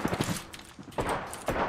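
Gunfire from a sniper battle in Apex Legends: a few sharp, heavy shots spaced apart over a short stretch, fairly close and loud against a busy game background, with no talking.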